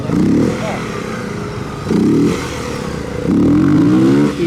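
A Honda CB300R motorcycle at a motogymkhana run, revving and dropping back repeatedly in surges with steady engine drone between, and someone talking over it.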